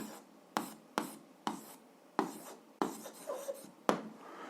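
A formula written by hand on paper, heard as a quiet, close series of about eight quick, scratchy pen strokes with short pauses between.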